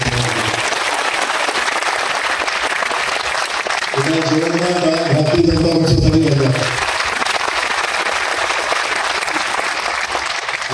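A crowd at a BJP political rally in Mhaswad applauds Devendra Fadnavis with dense, continuous clapping throughout, while someone speaks loudly over it midway.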